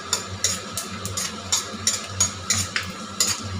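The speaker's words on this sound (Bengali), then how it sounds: "তাই এই যে বাদামটাকে একটু ভেজে নিচ্ছি আগে।" Raw peanuts frying in hot oil in a wok, with a steady low sizzle and repeated scraping, clinking stirs at a fairly regular rhythm, close and moderately loud.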